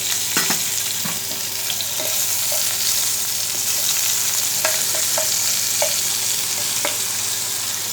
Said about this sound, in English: on the same pan which also has the fat from the salmon fish, I am now going to fry some chopped capsicum